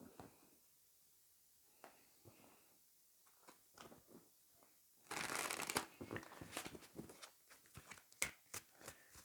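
Tarot cards shuffled close up, starting with scattered soft taps and slides, then a dense riffling burst followed by irregular flicks and snaps in a quiet room.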